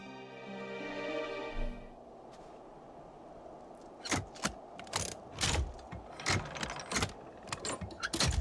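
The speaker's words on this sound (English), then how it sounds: "finish fixing up those engines in no time at all" Engines being fixed up in a video game, Final Fantasy XIV: after a fading tonal hum, a run of sharp mechanical clanks and ratcheting clicks comes in bursts, fairly close and clear with no talk.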